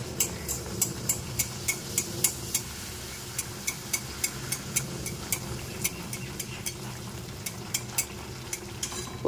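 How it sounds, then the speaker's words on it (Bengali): Small luchi flatbreads frying one by one in hot oil, giving a steady crackling sizzle with regular light clicks of utensils ticking over it, close and without talk. "একটা একটা করে বেলছি আর একটা একটা করে ভাজছি"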